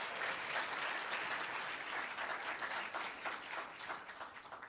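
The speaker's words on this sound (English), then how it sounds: "give them a round of applause" An audience at a public sector debate competition launch claps for the new teams, a full, lively burst of many hands that stays strong throughout and eases slightly at the end.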